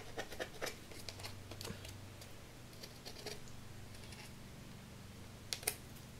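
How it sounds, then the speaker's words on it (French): Scissors blade scratching and gouging paper to distress it for a treasure-map effect, quiet irregular scraping and ticking strokes close by, with a couple of sharper scratches near the end. "Donc je vais creuser un peu, gratter avec le ciseau"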